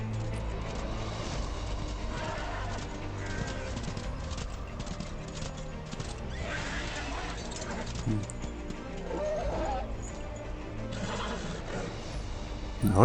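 Horse hooves clip-clopping at a gallop in the Darksiders 2 video game, steady rhythmic hoofbeats under a game soundtrack and voices.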